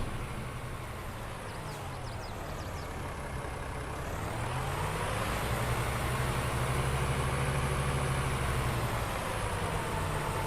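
A tractor engine idles on a farm with a steady, close diesel rumble that swells slightly in pitch and loudness partway through, running alone with no voices.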